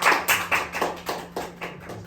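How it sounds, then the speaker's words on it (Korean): A church congregation claps to encourage readers during a group reading of The Pilgrim's Progress, heard as a sparse run of about nine uneven, separate claps at moderate volume, with no talking. "우리 박수로 크게 격려해 주시기 바랍니다."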